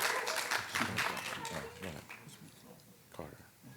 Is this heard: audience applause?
yes